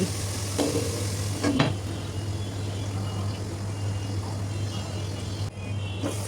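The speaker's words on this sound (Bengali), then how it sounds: "এখন একটু নাড়াচাড়া করেই ঢেকে দিচ্ছি" Snakehead fish and bottle gourd being stirred in a pan, giving a steady close scraping and sizzle with a couple of sharp utensil knocks, over a constant low hum.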